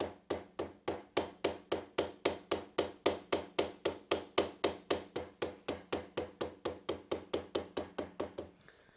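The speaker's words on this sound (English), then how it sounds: "just a rubber face or plastic face mallet, knock that into place." Rubber-faced mallet tapping a blanking plate into a Triumph Street Triple handlebar end, a steady run of about thirty evenly spaced, crisp knocks at close range with nothing else heard.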